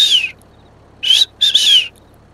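A person whistles to imitate the high-pitched call of a white-faced whistling duck: three clear, close, descending whistles, one short, then a brief one and a longer one after a pause.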